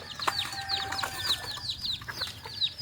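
Native chickens cluck and call in short overlapping bursts while being fed rice in the morning, a busy flock close by with no voices.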